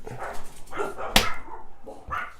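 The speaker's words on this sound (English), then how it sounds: "Dogs apparently heard it." Dogs bark a few times in the background while someone mixes a whiskey sour cocktail; the barks come as several short, moderately close yelps over a brief stretch.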